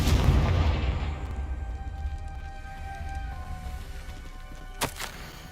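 Confringo fire spell cast in the video game Hogwarts Legacy, a loud booming blast that rolls off into a fading rumble, followed by a brief sharp crack near the end.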